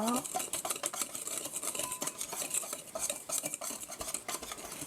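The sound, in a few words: stirring cake batter in bowl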